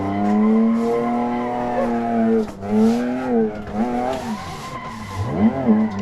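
A stock BMW M3 E36 drifts around Buckmore Park in Assetto Corsa, its tires squealing in long wavering howls over the engine note, close and loud, with the pitch bending as the car swings through corners.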